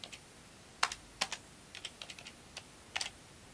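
Keys on a computer keyboard are tapped while code is entered in a Node.js error-handling block, a few sharp, close clicks in short irregular bursts with pauses between, no talking.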